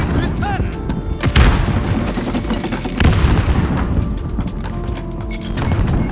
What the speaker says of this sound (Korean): 기절 수류탄.